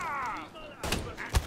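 Gunfire in the Mafia 3 video game, a couple of sharp cracking shots in the second half, one especially punchy, following a stretch of quieter game sound.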